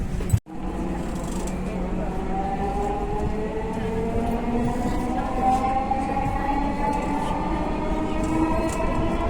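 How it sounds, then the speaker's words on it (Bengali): A Dhaka metro train runs between stations on its way to Motijheel, with Shewrapara next: a steady loud rumble under a rising electric motor whine, opening with a brief sharp thump. "ট্রেনটির গন্তব্যস্থল মতিঝিল, পরের স্টেশন শেওড়াপাড়া।"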